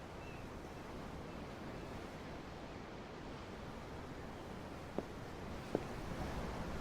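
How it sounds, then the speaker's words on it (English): Ocean waves in the video game Tales of Arise wash as a steady, soft broadband rush, heard from aboard a ship with light wind. Two faint clicks break in near the end. "I'm looking at the ocean."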